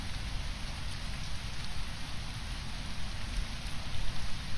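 Steady, dense rain in the video game Conan Exiles, a continuous hiss of drops falling on surfaces that holds at an even, moderately loud level throughout, with no talking.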